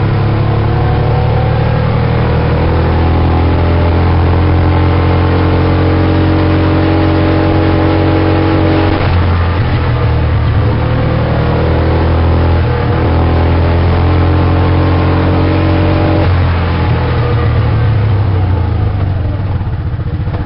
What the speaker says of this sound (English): we're just going to go ahead and park this mule right back in our little security area